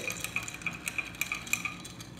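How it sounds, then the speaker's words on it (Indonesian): A spoon stirs a fresh cold drink in a glass, giving about a dozen light, fairly regular clinks close by over a soft background hiss, with no talking. "Namun sebelumnya kita perlu mengaduknya dulu. Kita akan aduk."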